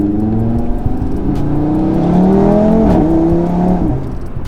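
An Audi RS3 five-cylinder engine with a catless exhaust revs loud and close, a rising, warbling drone that climbs and then eases off over a few seconds.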